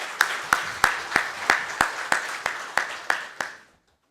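At a plasma power generation policy seminar at the National Assembly, a guest speaker is welcomed with about a dozen sharp, evenly spaced claps in unison, which stop abruptly into silence.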